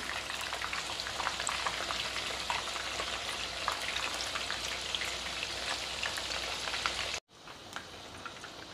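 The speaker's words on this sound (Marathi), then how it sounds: "चिकनची पीस तळताना आपल्याला गॅसची फ्लेम मीडियम ठेवायची" Chicken pieces deep fry in oil over a medium flame, a loud, continuous bubbling sizzle with crackles that cuts out abruptly near the end and returns somewhat quieter.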